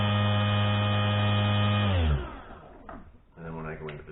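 A 48V 2000W electric motor on a converted ATV runs at a steady, loud high-pitched whine with an electrical hum. It then winds down and shifts in pitch, and a voice is heard briefly toward the end.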